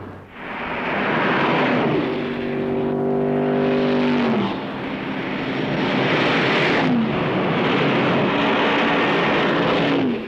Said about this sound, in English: So now let's see it in the only way that an engine should be seen, in action.